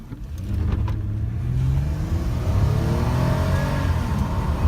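A 2015 Lexus ES350 engine revs up and pulls hard, its rising growl and whine loud and close as the car accelerates.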